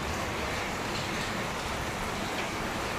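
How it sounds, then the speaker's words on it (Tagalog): Dense, steady hiss of rain falling, continuous and even with no voices. "Kakaulan."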